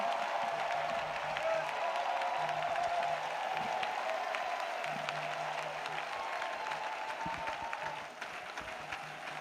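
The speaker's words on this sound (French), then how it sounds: "Clap offering to Jesus Christ." A church congregation gives a sustained round of clapping during a prayer gathering, a dense even applause lasting several seconds that tapers slightly at the end, with a faint voice underneath.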